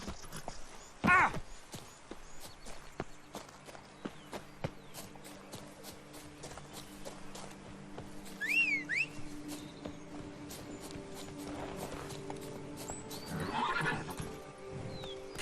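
Roach, a horse in The Witcher 3, clip-clops along with steady hoofbeats while whinnying and neighing cut through at moments, over ambient game sound and scattered clicks.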